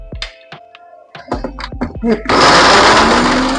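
A kitchen mixer grinder powdering mature coconut begins in the middle of the clip after a few clunks and knocks, then roars loudly and steadily close by, with someone talking over the early part.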